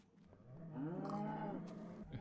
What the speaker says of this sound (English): Hello, cows.